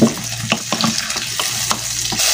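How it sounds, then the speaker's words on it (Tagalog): Garlic, onion and tomato sautéing in a hot pan for Filipino ginisang sardinas, a steady close sizzle broken by several sharp scraping stirs, with no voices. "Gisa natin yung bawang, sibuyas,"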